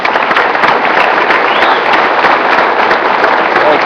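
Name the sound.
applause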